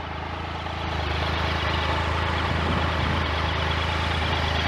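A 2019 Triumph Tiger 1200 XRX motorcycle engine idles steadily, a low, even rumble that holds for the whole stretch with no other sounds.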